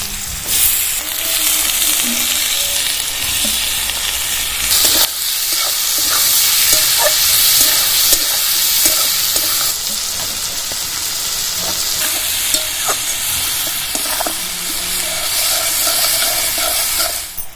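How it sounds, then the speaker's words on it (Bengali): Chopped onions frying in oil with bay leaf and whole spices for a ritha fish curry, a loud continuous sizzle with crackling pops and stirring scrapes, close up and without speech. "টুকরো করা পেঁয়াজগুলো দিয়ে দেবো তেলে।"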